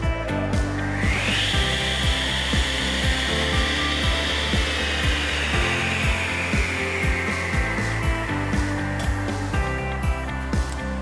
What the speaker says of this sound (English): I'll stand to the side and then push the green button to start.